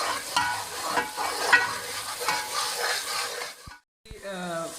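Dried fenugreek leaves (kasuri methi) roasting with spice masala in oil for moong dal mangochiyan, a steady close sizzle with stirring scrapes, briefly cutting out near the end before resuming.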